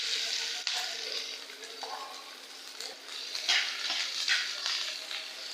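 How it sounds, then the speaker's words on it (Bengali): Onions fry in hot soybean oil mixed with a little mustard oil for a mustard hilsa curry, with a continuous close sizzle and hiss broken by occasional stirring scrapes and clinks. "তেল গরম হয়ে গেছে, এখন পেঁয়াজ দিয়ে দিব।"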